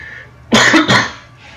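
Two quick, loud coughs in close succession, near and harsh, from a person with an ongoing cough, followed by a faint breathy trailing sound.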